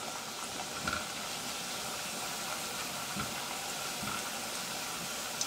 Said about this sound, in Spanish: ahora voy a estar friendo los triangulitos de la tortilla que corté